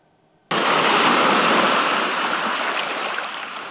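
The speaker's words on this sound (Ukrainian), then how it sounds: "Його величезні хвилі постійно з'їдають берег." Large waves from the Kremenchuk reservoir break on the eroding shore near Chervona Sloboda, a sudden loud wash of broadband surf that starts abruptly and rushes on steadily, slowly fading.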